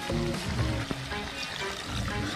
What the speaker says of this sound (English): Add just a little bit of water.